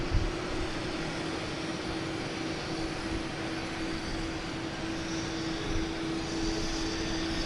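American Airlines jet taking off at Boston Logan, a continuous broadband engine rumble with a steady tonal hum underneath, sustained and fairly distant, without speech.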